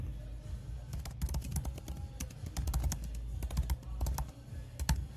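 Someone types on a computer keyboard, producing a soft, steady patter of close key clicks with uneven bursts over a low background hum.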